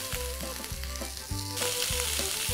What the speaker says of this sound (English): So the grill's really hot, you need to hear a sizzle.